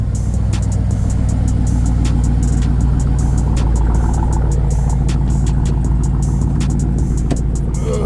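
A warm Dodge Durango engine runs with a loud, steady low rumble and uneven idle pulses close by, with no talking over it.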